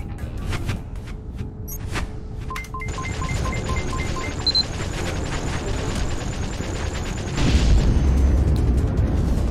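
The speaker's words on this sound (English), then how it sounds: "I like the explosions." Rapid crackling bursts and laser booms from the space game SpaceBourne, layered with electronic beeps, building to a louder rumbling blast near the end.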